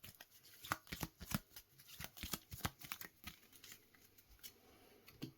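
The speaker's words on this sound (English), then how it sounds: "We take our discard pile, shuffle it" Cards from a board game discard pile shuffled by hand, a quiet riffle of rapid papery flicks and taps in bursts, close and alone.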